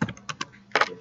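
A few quick keystrokes on a computer keyboard while entering a print size in Photoshop, several light clicks followed by a louder cluster, close and brief with no voices.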